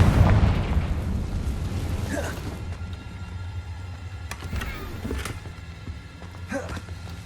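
A Confringo blasting curse detonates in the Hogwarts Legacy video game with a loud opening boom that rumbles and fades, followed by several fainter pops and crackles spread over the following seconds.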